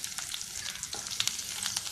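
Garlic and onion sauté in hot oil in a pan, giving a soft crackling sizzle with scattered sharp pops and light stirring scrapes, fairly quiet and close, with no talking.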